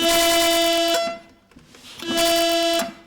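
An accordion reed that sounds flat, waiting to be tuned, gives two long steady buzzing tones, loud and close, with a brief quiet gap between them.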